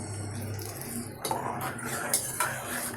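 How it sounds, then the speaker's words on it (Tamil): A spoon scrapes and clinks against a metal cooking pot while kara kuzhambu is stirred, a few sharp knocks and rattles over a low background hum, with some brief voice nearby. "நல்லா கிளறி விட்டுக்கணும்."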